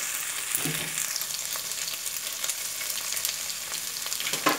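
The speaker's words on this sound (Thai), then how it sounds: "ใส่เส้นนะครับแล้วก็ใส่ไข่ครับ" Noodles and egg stir-fried in a hot pan for curry-powder crab noodles, a steady close sizzle and frying hiss with faint scraping stirs, no talk.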